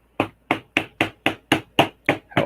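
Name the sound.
Lego mallet tapping Lego bricks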